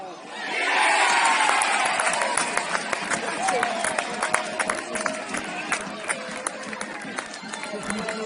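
A crowd of about 400 cheers and shouts at a Southern League football match between Royston Town and Hensford Town, a loud continuous roar of voices with scattered sharper calls throughout.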